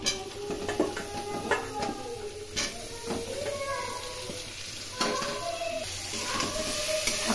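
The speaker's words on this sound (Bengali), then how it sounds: "এখন এঁচড়গুলো খুব ভালো করে ভেজে নেব।" Boiled jackfruit fries in a pan with cumin, giving a steady sizzle and hiss broken by frequent clinks and scrapes of a spoon against the pan, with a voice talking under the cooking.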